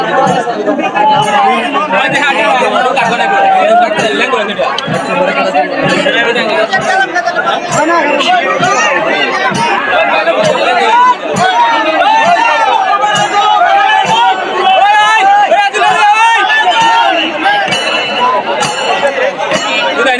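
A large crowd of spectators at a traditional village boat race final on a beel in Phulpur roars and shouts in celebration, a dense, loud, continuous babble of voices with excited cries.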